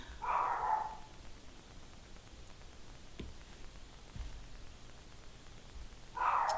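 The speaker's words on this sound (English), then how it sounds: "I don't actually know why he's still barking." A dog gives two short barks, one at the start and one at the end, with a quiet room and a few faint ticks and knocks in between.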